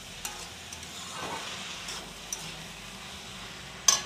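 Petha (ash gourd) sabzi sautéing in a pan, a soft, low steady sizzle with a few light stirring clicks and a sharper utensil tap at the end.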